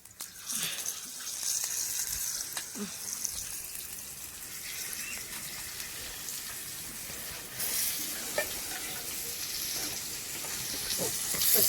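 Curry leaves sizzling and frying in hot oil in a home kitchen: a steady, close crackle and hiss with a few sharper pops and stirring scrapes, and no one talking.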